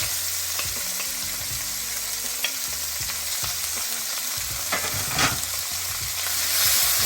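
Stew ingredients for pig tails sizzle in a piping hot pot while being stirred. There is a constant frying hiss, with scattered scraping and clinking from the utensil against the pot and no talk.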